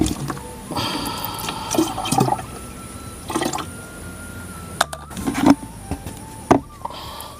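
Pesticide liquid poured bit by bit into a small bottle in a farm setting, with gurgling, splashing pours in irregular bursts and short drips between them, close by.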